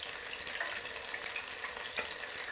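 Beer-battered onion rings fry in hot oil, giving a steady, dense sizzle with small crackles and pops, close up and alone.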